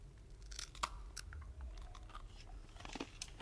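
Close, crisp crunching as dry, brittle raw vegan mango coconut crackers from a dehydrator are bitten and chewed, several sharp cracks followed by softer grinding, no talking.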